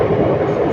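An express train speeds between Tiruppur and Coimbatore, a loud, steady rumbling roar with a dense rattle close around, no voices.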